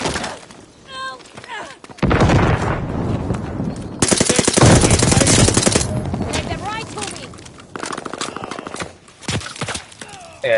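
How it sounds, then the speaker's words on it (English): Sniper and machine gun fire in a shooting video game, loud and sustained, with dense bursts and rapid automatic volleys layered over one another throughout. "there's snipers shooting everywhere I go"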